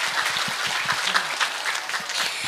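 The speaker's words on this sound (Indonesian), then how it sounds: "aku tepuk tangan dulu dong" A crowd at an Indonesian religious gathering claps along, crisp individual hand claps standing out near the front over a lively mass of applause.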